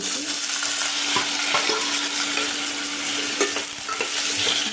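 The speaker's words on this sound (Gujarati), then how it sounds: "થોડી મેથી નાખીશું હિંગ નાખીશું અને બટાકા કાપેલા છે તે એડ કરી દઈશું" Cut potatoes hitting hot oil seasoned with fenugreek seeds and asafoetida, a loud continuous sizzle with clinks and scrapes of stirring close by.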